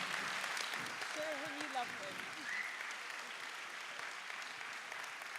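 Audience at Festival America 2016 applauds crime novelist James Ellroy, a dense, steady roar of many hands clapping that fills the room evenly, with a few voices rising briefly above it.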